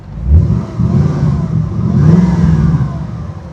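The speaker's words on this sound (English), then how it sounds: "One turn of the key, that LS fires up just like that every time." An LS3 V8 engine in a 1958 Corvette restomod catches and fires up, then idles loud and rumbling through its exhaust with a rising rev in the middle before settling.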